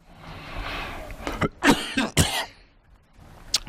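A few sharp coughs close by, spaced out over a few seconds, with a quieter throaty cough near the end.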